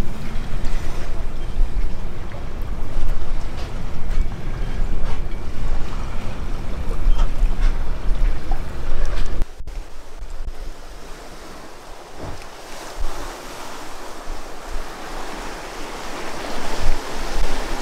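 Catamaran under sail through confused seas with the wind coming off the beam, offshore between Florida and the Bahamas; steady loud wash of surf and water rushing past the hulls with heavy wind buffeting, easing somewhat in the second half.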